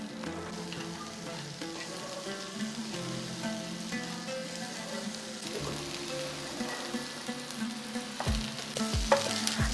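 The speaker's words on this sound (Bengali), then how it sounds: "চালের সাথে মশলাটাকে বেশ ভালো করে কষিয়ে নিচ্ছি যাতে চালটাও ভাজা ভাজা হয়ে যায়" Rice fried with spices in a pan for pulao sizzles and crackles steadily, close and fairly quiet, with a few sharper stirring scrapes toward the end.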